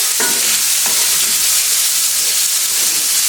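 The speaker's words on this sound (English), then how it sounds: "we just want to cook this until our onion is translucent" Onion, garlic, red pepper and basil sautéing in a pan, with a steady close sizzle and hiss and a couple of brief stirring scrapes near the start.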